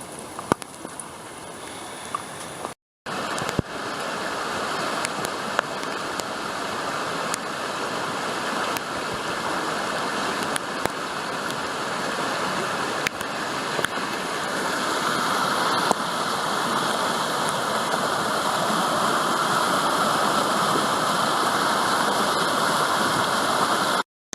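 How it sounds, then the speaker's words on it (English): Water rushes and burbles steadily in a flowing river in Alaska, a close, continuous wash of sound that briefly cuts out early on. "there's a river with no fish"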